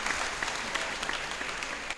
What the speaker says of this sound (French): fêtez-moi en m'applaudissant maintenant